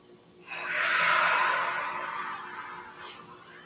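A single long, deep breath during yoga relaxation, a soft airy inhale swelling and slowly fading out, close and quiet with no talking.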